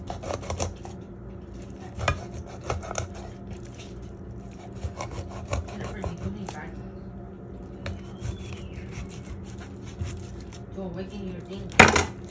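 A knife cuts slits into a cleaned fish, making soft scraping and tapping strokes against a cutting board, with a sharp clatter near the end, under a person's talk.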